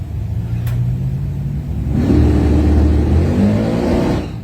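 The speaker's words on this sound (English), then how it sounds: "Chevy Colorado truck." A Chevy Colorado pickup truck on street tires at a drag strip, its engine loud and close, holding a steady rumbling idle before revving up into a sustained, rising roar.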